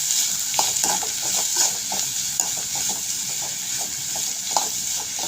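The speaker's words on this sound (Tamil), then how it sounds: "அதோட வாழைப்பூவை போட்டு வதக்கிடலாம்" Banana flower sautéed with chana dal and fennel in a pan for a Chettinad stir-fry, giving a steady sizzle with repeated scraping stirs, close and fairly loud, no talking.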